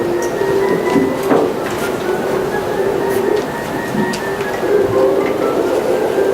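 A train rumbles along steadily with rattling carriage noise, squealing tones and clanks, close and fairly loud throughout.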